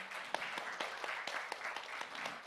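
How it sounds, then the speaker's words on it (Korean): Audience applause at a 2022 Jeju Forum session on global peace-city solidarity: a steady, moderately loud wash of many hands clapping throughout, with no talking over it. "여러분 큰 응원의 박수를 좀 부탁드립니다"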